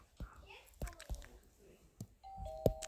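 A doorbell chimes near the end, a clear ringing tone after a few soft knocks and rustles, with quiet indistinct voices faintly in the background.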